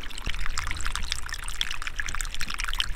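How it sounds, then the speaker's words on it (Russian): A steady thin stream of water trickles over mud and splashes close by, a continuous wet babble with no voices. "тут такая довольно-таки приличная струйка-то стекает"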